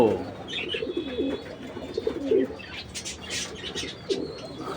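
Pigeons at a home loft coo in short low bursts close by, with a few higher chirps and light flapping between calls.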